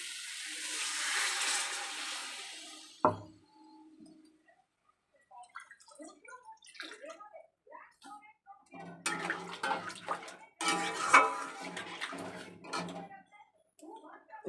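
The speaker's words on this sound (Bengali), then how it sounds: "এবারে এর মধ্যে জল দিয়ে দেব।" Water rushes into a pan of sautéed potatoes and spices for a paneer curry in a short, steady pour lasting a few seconds, then a clunk, with someone talking afterward.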